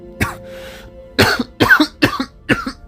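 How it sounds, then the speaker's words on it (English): A rough, harsh cough bursts out in several hacking spasms after a short throat sound, close and loud, with no talking. "lungs expel with a nasty cough"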